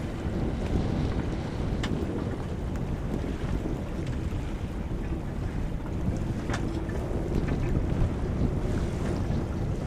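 Strong wind gusting across a sailboat in autumn conditions off Greece, a loud, continuous roar of buffeting wind on the microphone mixed with rushing water and waves.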